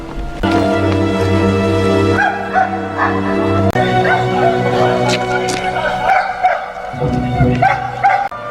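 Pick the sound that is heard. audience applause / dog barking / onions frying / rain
dog barking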